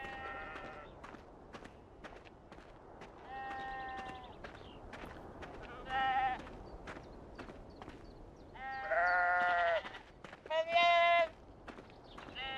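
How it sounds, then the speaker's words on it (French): Sheep bleat in Beyond Two Souls, several separate wavering calls from near and mid distance, with footsteps and someone talking between them. "Oh, les moutons."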